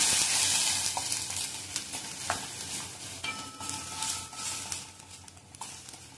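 Palak spinach soup gets stirred in a pan, with a spoon clinking and scraping against the metal in irregular strokes over a soft simmering sizzle, close and with no talking.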